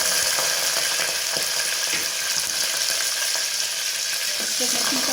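Curry leaves and green chilies fry in hot oil with a dense, steady sizzle, close and fairly loud, broken by a few soft clicks and stirring knocks.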